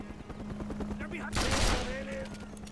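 A bunker-buster bomb lands in Mercenaries 2: World in Flames, and a sudden, heavy blast swells midway and rumbles off over a steady tonal background in the game.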